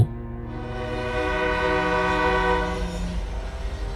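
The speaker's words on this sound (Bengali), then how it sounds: "তারপর শুনতে পেলাম দূর থেকে ট্রেন আসার শব্দ" A train horn sounds loud and sustained with a rumbling rail roar beneath, holding steady for several seconds before easing off.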